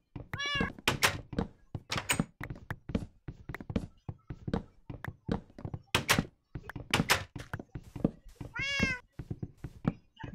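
Cats meowing in the video game Minecraft, a busy series of short repeated meows and soft thumps coming in quick irregular bursts, close and fairly loud with no talk.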